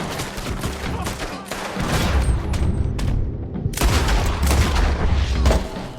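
Gunfire crackles through a Red Dead Redemption 2 shootout, a steady fusillade of overlapping rifle and pistol shots with booming bursts, loud and continuous with a brief lull midway.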